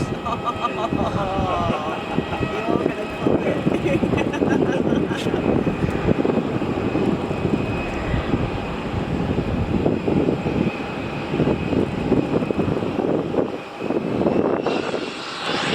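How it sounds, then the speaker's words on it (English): An airliner landing at Melbourne Airport, a loud, steady engine roar close by that holds for the whole stretch, with a broad rumble and a faint hiss on top and no break in the noise. "another smooth landing"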